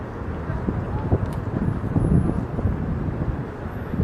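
Wind buffets the microphone in a steady, gusty rumble, with low thumps rising and falling throughout and no clear voice on top.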